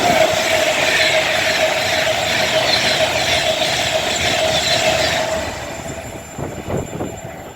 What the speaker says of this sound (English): Passing through now, we have an Avanti West Coast Pendlina going from London to Liverpool